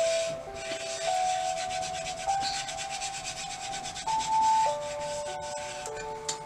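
Glitter being rubbed into glue on a clear Dollar Tree plate produces a continuous close, gritty rubbing and scraping texture, with some faint tonal ringing in the background.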